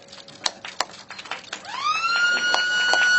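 A siren winds up and holds a loud, steady wail at a police water unit headquarters inauguration ceremony, preceded by scattered claps and thumps.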